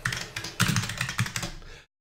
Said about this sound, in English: but we'll start typing.